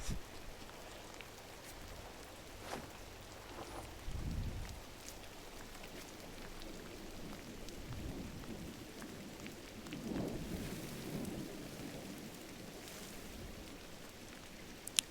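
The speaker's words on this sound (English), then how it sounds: "And then it rains." Rain and thunder in the video game GRIS: a steady wash of rainfall with several deep rumbles of thunder rolling in and out, with no voices over it.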